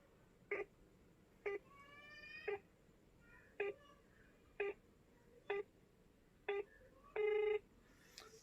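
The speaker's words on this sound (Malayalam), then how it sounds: "റിങ് ചെയ്യുന്നുണ്ട് പക്ഷേ കോള് കണക്റ്റ് ആകുന്നില്ല" A phone call ringing without connecting, short electronic tone bursts repeating roughly once a second over a faint hiss, ending in a longer steady tone.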